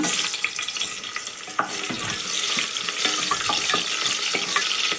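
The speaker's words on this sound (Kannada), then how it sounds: "ಎಣ್ಣೆ ಬಿಸಿ ಆಗಿದೆ ಸಾಸಿವೆ ಹಾಕ್ತಿದ್ದೀನಿ ಈರುಳ್ಳಿ ಸೇರಿಸ್ಕೊತಾ ಇದ್ದೀನಿ" Mustard seeds and onion crackle and fry loudly in hot oil in a cooker, a dense continuous sizzle broken by scraping stirs and small pops.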